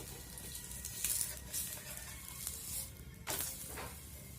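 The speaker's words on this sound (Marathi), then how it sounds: "आता त्याच्यावरती असं थोडंसं तेल टाकायचं पराठा व्यवस्थित असा घालून घ्यायचा" A leftover dal paratha is laid in oil on a hot pan, giving quiet, uneven sizzling with a couple of brief, louder hissing bursts near the end.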